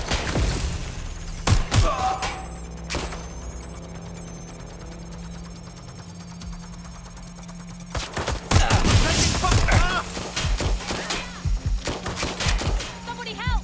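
Gunfire in the Watch Dogs: Legion video game: scattered sharp shots early, then a denser burst of rapid fire from about eight seconds on, over a steady background hum.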